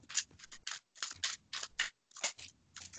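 A deck of playing cards being shuffled nearby, a string of quick papery riffles and flutters in several bursts with short pauses between, no talk over it.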